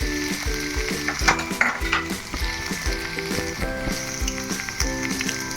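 Egg fried rice with turmeric stir-fried in a hot pan, with loud continuous sizzling and rhythmic scraping tosses of the spatula, close and alone with no voices.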